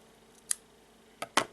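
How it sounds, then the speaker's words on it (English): Scissors snip through yarn in three crisp, close cuts: a single snip, then a quick pair a moment later, with quiet between them. "Now I will take the scissors and cut"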